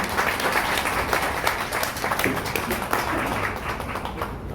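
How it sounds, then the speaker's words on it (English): Audience applause at a Nikon Z50 product showcase in Malaysia, a dense, steady burst of clapping from a crowd filling the room at moderate loudness, with no speech over it. "Let's give you a round of applause."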